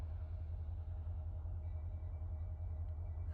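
Low, steady rumble of an eastbound Norfolk Southern light power train, locomotives running without cars, at a road crossing, a continuous deep drone at moderate distance with a faint high tone, no voices.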